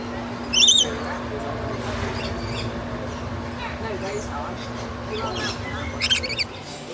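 Lorikeets at a bird feeding enclosure at Busch Gardens Tampa Bay give a few sharp, high chirps and squawks, one burst early and another near the end, over a steady hum and murmuring crowd voices.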